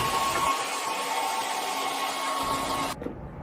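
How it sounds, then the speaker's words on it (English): A regular hairdryer blows a steady, loud rush of air for about three seconds to clear dust off an artificial outdoor wreath, then cuts off abruptly. "we're gonna just take a regular old hairdryer"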